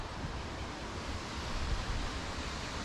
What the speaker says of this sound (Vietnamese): cái thác này nó chảy xuống đó các bạn, cái suối.